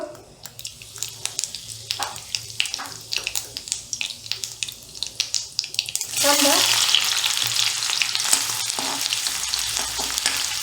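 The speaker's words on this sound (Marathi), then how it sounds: "तेल गरम झालंय, त्यात मोहरी, हिंग," Mustard seeds and asafoetida in hot oil in a kadhai: light crackling and stirring at first, then a sudden loud, continuous sizzle that holds close and strong to the end; no talk.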